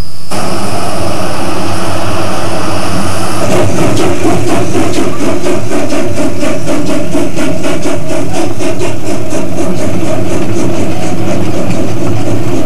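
A Colorado narrow gauge steam train runs along the line, a loud, steady roar with a rhythmic chugging beat that sets in after a few seconds and continues throughout.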